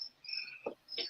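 Crickets chirp in short, shrill bursts on a quiet evening, several buzzing trills overlapping close by with brief gaps between them and no voices.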